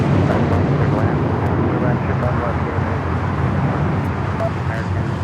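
Airliner noise at LAX as United 2470 lands on runway 25 right: a steady, loud broadband roar with low rumble that holds evenly from start to finish, with no clear rise or fade.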